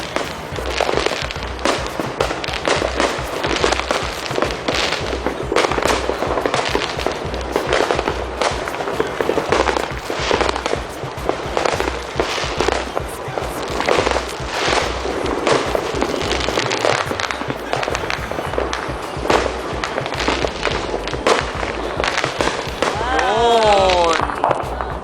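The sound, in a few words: fireworks exploding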